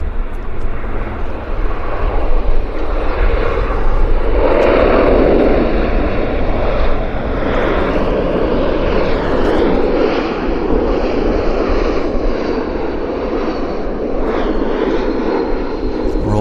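An Air Canada Jazz airliner settles onto the runway at Vancouver Airport on a fine May morning, its engines a loud steady roar with whining tones, sustained throughout touchdown and rollout.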